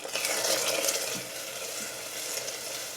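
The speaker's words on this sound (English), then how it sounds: "And now it's going to make a sizzle sound" Loud, steady hot sizzling as vanilla extract hits hot toffee, with soft stirring scrapes underneath, bubbling continuously close by.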